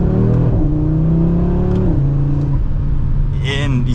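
A 2024 Audi RS3 engine revs under acceleration while driving, the tone rising and shifting through gears with a faint turbo whir near the end, heard from inside the cabin with a voice talking over it.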